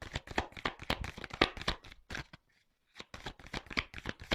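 A deck of oracle cards is shuffled by hand in rapid riffling bursts, with some cards springing loose from the deck, then a brief pause before the shuffling resumes close and clear.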